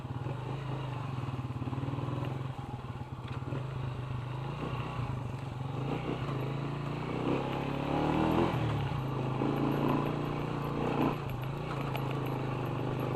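A Motoposh Pinoy 125 motorcycle engine drones steadily and strains as it climbs off-road, with rattling and clatter over rough ground, loud and continuous throughout.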